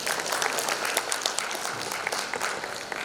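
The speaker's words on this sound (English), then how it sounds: "let us have a huge round of applause as we begin the evening" Audience applause opens an evening design debate, the Architect and Interiors India Design Debate in Coimbatore, with a steady, moderately distant wash of many hands clapping throughout and no talk over it.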